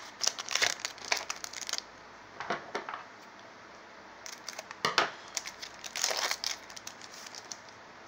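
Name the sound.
tearing open a Pokemon card booster pack wrapper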